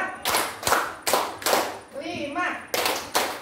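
Rhythmic group clapping in a classroom counting game, a quick run of sharp claps in pairs and singles, close and loud, with a teacher briefly speaking mid-sequence.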